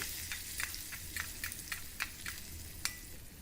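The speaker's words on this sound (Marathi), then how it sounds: "गरम तुपात अर्धा छोटा चमचा जिरे जिरे तडतडल्यावर हिंग चिमुटभर हिंगामुळे पचन छान होते दोन हिरव्या मिरच्यांचे बारीक तुकडे हिरवी मिरची तळूनच घाला" Cumin seeds and finely chopped green chillies fry in hot ghee for a tempering, a soft, continuous sizzle broken by scattered crisp pops and crackles at an uneven rhythm, faint and close, with no voices.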